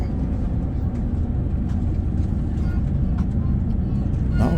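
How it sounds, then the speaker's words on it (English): Steady low rumble of an airliner rolling along the runway, heard from inside the cabin, a constant engine and road drone with faint knocks, swelling slightly at the end. "now our flight is on the runway"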